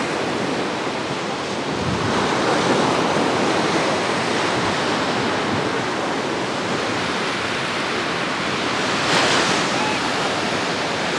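Loud, continuous roar of Black Sea surf crashing and washing at Anapa's central beach, a dense rushing noise with waves swelling now and then, no voices.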